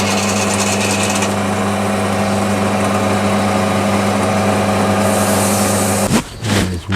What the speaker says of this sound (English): I'm just gonna take a little bit of emery tape, clean up the first portion